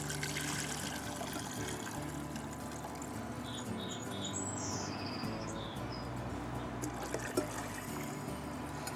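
Water pouring steadily into a cooking pot for vegetable soup, a continuous splashing flow heard close and fairly quiet, with faint bird chirps in the background.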